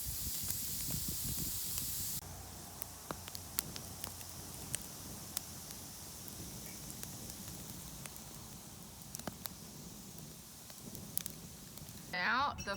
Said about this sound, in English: So that piece is still wet, so the fire is squeezing all the water out. You can hear it sizzling.